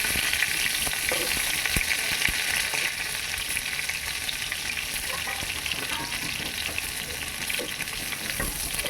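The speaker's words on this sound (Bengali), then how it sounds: "পটলগুলোকে তেলে ভেজে নিচ্ছি" Pointed gourd pieces frying in hot oil give a continuous dense sizzle and crackle, steady and close throughout, with occasional faint stirring clicks and no talk.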